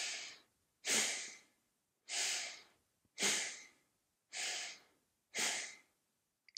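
Chest breathing shown as a demonstration: six deep, even breaths in a steady rhythm, each a loud, close airy rush about a second long with short pauses between, and no talking.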